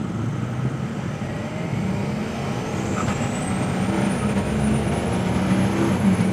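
Modified 900HP 6.0 Powerstroke diesel truck accelerating in a roll-on, a loud, steady low engine roar that swells gradually as it pulls, heard from inside with no talking.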